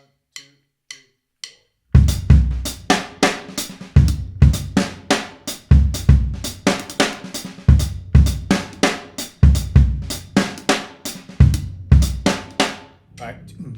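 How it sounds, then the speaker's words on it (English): A drum groove built on bass drum and snare, starting with a few sparse hits, then settling into a steady repeating pattern of punchy kicks and sharp snare strikes, close and loud throughout. "So I'm doing variations with the bass drum and the snare."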